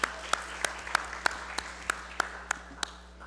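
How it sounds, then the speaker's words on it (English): Sparse, evenly spaced handclaps ring out in a legislative session hall, about ten sharp claps at a steady rhythm over a low background hum, with faint talk underneath. "let's give them a round of applause."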